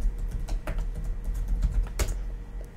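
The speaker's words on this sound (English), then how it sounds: "type in your username, type in your password" Fingers type a username and password on a computer keyboard, a steady stream of close, light key clicks with a few louder taps, heard alone without talk.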